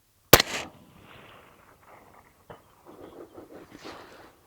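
A single sharp report from a 6mm ARC Lantac rifle fired at long range outdoors, loud and abrupt with a short decay, followed by quiet and faint scattered sounds.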